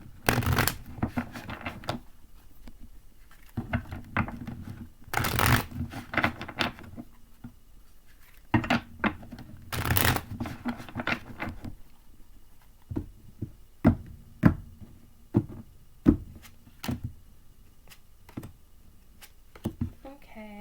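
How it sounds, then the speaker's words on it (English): Tarot cards shuffled by hand in bursts of riffling and rustling, pausing between rounds, then a series of sharp separate card taps and flicks, close and fairly quiet with occasional soft voice. "I'll shuffle a few times and I'll pull out 3 cards for you."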